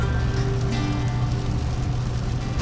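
Rain pelts a car driving along an Alaskan highway, a dense steady patter over the low rumble of the moving vehicle, with no voices.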